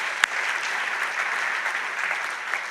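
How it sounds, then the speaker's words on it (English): An audience at a forum breaks into steady applause, a continuous mid-level patter of many hands clapping, with one sharp louder clap near the start. "yes, we can clap about that"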